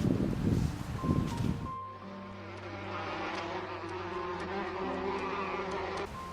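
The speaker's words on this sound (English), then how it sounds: "We were also hit by a plague of grasshoppers." A plague of grasshoppers swarming over African farmland makes a steady, dense insect buzz that fills the air, with a faint sustained hum beneath and a louder rustling burst at the start.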